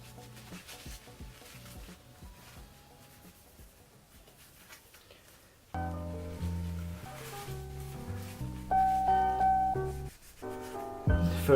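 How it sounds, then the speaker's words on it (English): Alcohol-soaked cloth rubbed over the old thermal paste on the CPU of a 2008 Apple Xserve, making soft, faint back-and-forth scrubbing strokes; music with sustained tones comes in partway through and plays louder over the rubbing. "using a bit of washing alcohol I will rub the old compound away"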